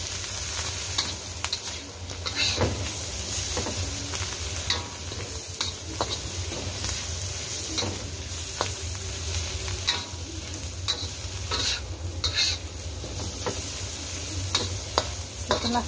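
Chopped, salted chili and dried shrimp stir-fry in a pan, giving a soft steady sizzle broken by repeated scraping and tapping of a spatula, heard close and without talk.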